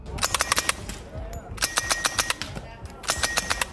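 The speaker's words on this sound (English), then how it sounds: "Were they this silent? Hell no, the gun would have been much louder, something like this." A loud unsuppressed grease gun fires in three rapid bursts of sharp, closely spaced shots separated by short pauses, with a voice faintly underneath.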